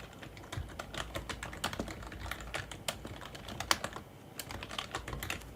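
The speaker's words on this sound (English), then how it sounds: "You'll hear me typing as well." Rapid typing on a computer keyboard, a dense stream of close, crisp key clicks with brief irregular pauses.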